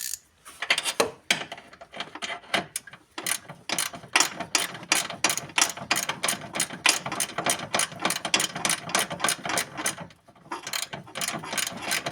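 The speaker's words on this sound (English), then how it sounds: "we are going to screw it back into place. Gonna use the ratchet." A hand ratchet drives a long screw back into a car's ground connection, clicking in rapid, steady runs up close, with short pauses as the handle is reset.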